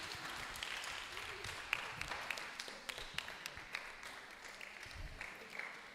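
Scattered, fairly light clapping from an audience at a community development and donation ceremony in Abura, with irregular individual claps standing out over a soft background hum.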